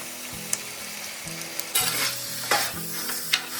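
Onions and small shallots frying in oil with ground ginger and garlic, a steady close sizzle punctuated by a few louder stirring scrapes and hisses, with no talking.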